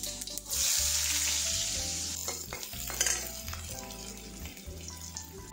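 Onions fry in a hot pan with cumin, crackling and sizzling loudly up close while a spoon stirs and scrapes in short bursts, the sizzle easing and flaring between strokes.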